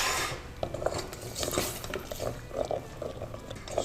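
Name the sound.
scraping a pan while deglazing with wine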